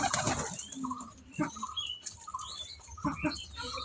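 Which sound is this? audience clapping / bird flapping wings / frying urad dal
bird flapping wings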